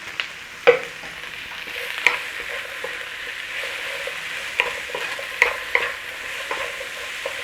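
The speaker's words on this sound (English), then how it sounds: "Little stir fry on all of this." Onions and mixed vegetables stir frying in a pan for salt and pepper chicken, a steady sizzle with scraping stirs and a few sharp clacks of the utensil against the pan, close and alone.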